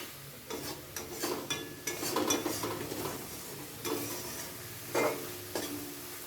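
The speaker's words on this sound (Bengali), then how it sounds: "এই জলটা দিয়েও মশলাটাকে আরেকবার একটু ভালোভাবে কষিয়ে নেব যতক্ষণে না তেল ছাড়ছে" Spice paste for egg curry is sautéed with a splash of water in a pan, with quiet sizzling and irregular scraping and clinking of a spoon against metal, several sharper stirring strokes over the frying.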